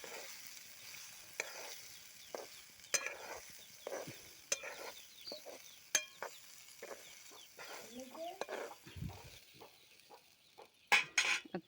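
Roasted corn kernels being stir-fried in a pan, with quiet intermittent sizzling broken by sharp spoon clicks and scraping strokes, close but soft.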